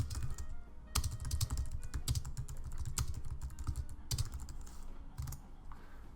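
Rapid typing on a computer keyboard, a dense run of close, crisp key clicks with occasional louder strokes, heard alone without talk.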